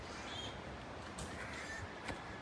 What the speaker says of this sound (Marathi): ओटातले कावळे कोकलून कोकलून गप बसले